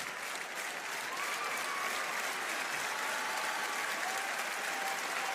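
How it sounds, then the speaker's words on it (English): Arena crowd of WWE fans applauding during a Women's Intercontinental title match, a steady dense wash of clapping that holds at an even level throughout, with faint distant cheering mixed in. "WWE fans applauding this great matchup for the Women's Intercontinental title."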